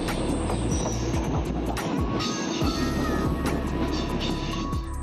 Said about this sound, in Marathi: आणि ही फास्ट ट्रेन आहे